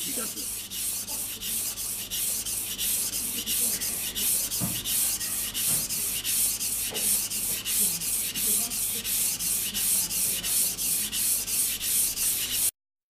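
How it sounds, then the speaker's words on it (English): Steady rhythmic scraping of a knife stroked back and forth across a wet Japanese water stone, even repeated strokes at close range with no talking. "You can sharpen from top into the bottom."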